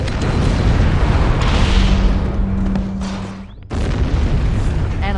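Deep, rumbling explosion blasts from Halo: Combat Evolved fill the clip, with a sustained loud roar that dips briefly near the end before resuming at full strength.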